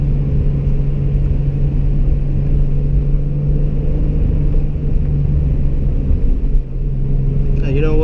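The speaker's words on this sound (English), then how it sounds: "here's wet road, low boost, 5 mile per hour wheel slip." A 700 whp twin turbo Toyota Supra on a wet road at low boost, with a steady loud engine rumble and drone. The wheels slip at around 5 mph and the engine note shifts briefly near the end.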